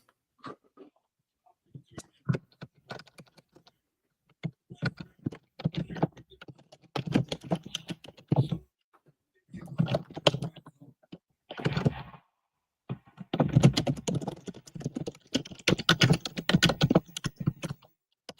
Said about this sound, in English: A lot of typing. I am trying to send a message